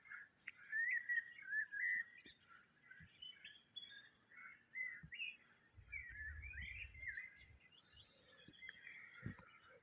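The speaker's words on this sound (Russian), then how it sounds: "птички поют." Small birds sing and chirp in scattered, overlapping phrases across a calm lake at dusk, faint and somewhat distant, with a few soft low thumps in between and no talking.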